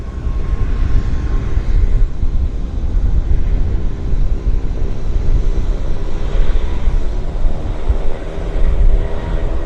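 US military C-17 transport aircraft flying near Vancouver Airport, a loud continuous low roar with broadband rumble that stays steady throughout, without voices.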